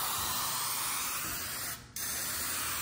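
A steady, loud hiss of wide-pattern turbo aerosol spray paint cans painting a truck, running continuously, cutting out briefly for a moment before resuming.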